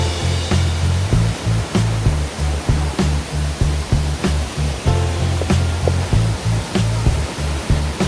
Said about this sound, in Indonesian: Kita akan coba mendekat ke air terjun.